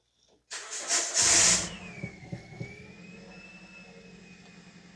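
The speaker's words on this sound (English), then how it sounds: "So I'm going to start the vehicle now." A 2010 Toyota Corolla with the 1.8 engine, parked in neutral, cranks briefly with a loud whirring burst and then catches, settling into a steady, fairly quiet idle close by.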